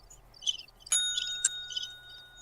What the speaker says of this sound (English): That's the front desk bell.